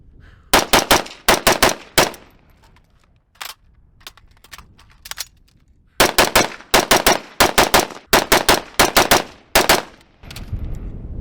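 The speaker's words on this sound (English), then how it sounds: "That whole rail just came off while I was firing it." A CMMG MK47 Dissent rifle fires at an outdoor range in sharp, loud bursts of rapid shots, with a quiet gap in the middle and more volleys after it, close and alone with no talking.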